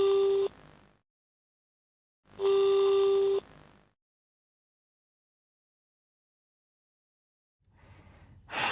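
Outgoing phone call ringback tone that goes unanswered: two steady electronic ring bursts separated by long silences, loud and alone, with a brief noisy rustle at the very end.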